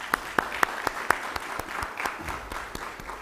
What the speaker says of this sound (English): Let us appreciate our sponsor with a big round of applause.